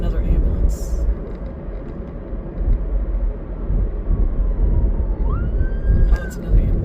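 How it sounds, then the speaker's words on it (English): An ambulance siren wails faintly through steady road rumble inside a car driving from Las Vegas to Henderson, rising and sweeping past near the end. "that's another ambulance"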